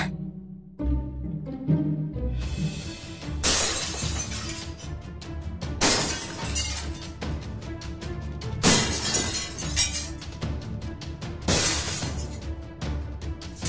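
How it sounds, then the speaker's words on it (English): Glass shatters several times in a Minecraft game, each sharp crash bursting loudly over a bed of game music with no talk. "It sounds like glass breaking again."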